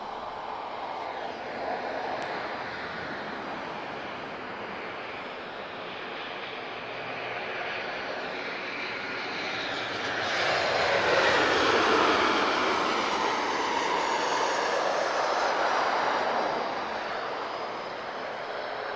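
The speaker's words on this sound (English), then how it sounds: "This is a 737-800." A Boeing 737-800 landing at Lisbon Airport, its broad jet roar steady and loud throughout, swelling to a peak midway as it passes before easing off slightly, heard from nearby on the ground.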